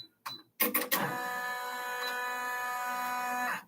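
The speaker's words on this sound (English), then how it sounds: "it is going to do the top stitching on here and on here." An embroidery machine top stitching a see-through pouch runs steadily and loudly with a dense mechanical whir and fast stitching rhythm, after a few sharp clicks and starts at the beginning, then stops near the end.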